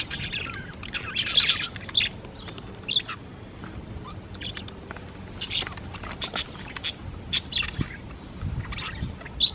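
Pet budgies chirp and tweet in short scattered bursts at close range, with occasional squawks and some soft background noise among the calls.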